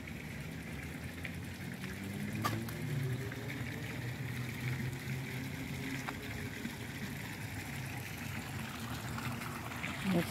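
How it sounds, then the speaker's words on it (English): Garden water fountain trickling beside an arbor near magnolia trees, a soft continuous splashing wash at a modest distance, with faint background voices. "That's a pretty water fountain right here."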